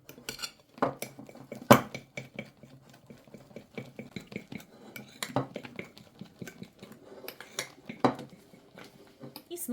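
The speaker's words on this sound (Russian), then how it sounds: "Снова все тщательно перемешиваем." A spoon scrapes and clinks against a bowl while melted marshmallow glaze is stirred thoroughly between short microwave heatings, with irregular close knocks and taps, some louder, over a quiet background.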